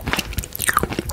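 Crunchy bites and chewing of milk barfi, a milky Indian sweet, close to the mic in quick irregular bursts with no talking.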